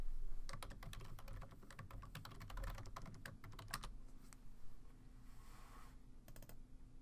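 Keys clatter on a computer keyboard in quick, uneven bursts as a login is typed, with short pauses between runs of strokes; close and fairly quiet, no speech.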